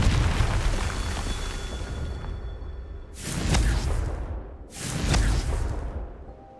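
Confringo fire spell cast in Hogwarts Legacy: a sustained roaring rumble followed by two big whooshing explosive blasts about two seconds apart, loud and close, with no talking.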